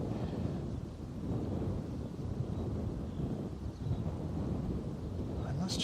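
Strong wind gusting across a microphone at Bristol Airport, a steady broadband roar with buffeting surges that stays loud and constant throughout.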